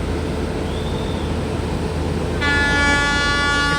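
Venkatadri Express passenger train running past with its engine, a steady loud rumble of wheels and wagons, joined near the end by a sustained multi-tone horn blast.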